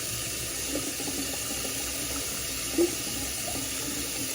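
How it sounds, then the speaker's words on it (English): Water from a bathroom sink tap pours in a steady, fairly quiet stream while someone rinses their face, a soft continuous hiss with a small splash partway through. "this time when I rinse my face off"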